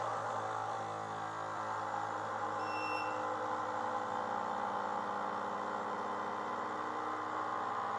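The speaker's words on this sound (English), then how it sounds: "When you hear 3 beep sounds, it is done." A Wevac CV10 chamber vacuum sealer gives three short, clear electronic beeps near the three-second mark as it finishes its cycle, heard over a steady machine hum with no talking.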